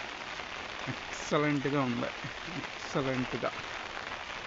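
Steady rain falls outdoors as a constant soft hiss, and two people chat over it.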